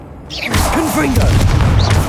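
A Confringo blasting spell explodes in the Hogwarts Legacy video game, a loud booming burst that swells and rumbles for about two seconds under a spoken voice.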